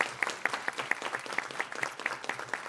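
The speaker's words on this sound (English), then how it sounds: "Please give him a round of applause." An audience at an education board meeting applauds a student, a dense and fairly loud run of clapping that carries on evenly with crisp individual claps standing out.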